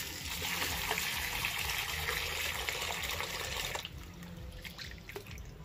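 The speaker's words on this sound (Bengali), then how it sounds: "আমি ভালো করে তাহলে আলুটাকে ধুয়ে নিই।" New potatoes being washed in water at a pond-side home: steady running, splashing water for a few seconds, then quieter drips and small sloshes as the flow stops.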